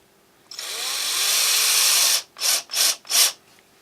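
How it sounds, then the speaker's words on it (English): A power drill drives a No. 6 by 3/8 screw into aluminum T-track on a table saw taper jig: one long, steady whine of about two seconds, then three short bursts as the screw is seated snug. The drill is close and loud, with no talk. "I'll drive in these number 6 by 3/8 screws."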